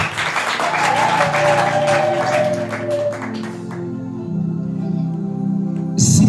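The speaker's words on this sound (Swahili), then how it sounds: "Shangilia neno la Bwana kwa makofi na vigelegele." A church congregation applauds continuously, with a rising ululating cry in the first half. The clapping then thins into lower murmuring before a brief renewed burst at the end.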